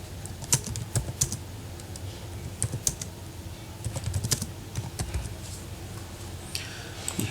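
Steady typing on a computer keyboard while a presentation title is entered in Apache OpenOffice Impress. Close, quiet key clicks come in uneven bursts, with a few louder taps standing out.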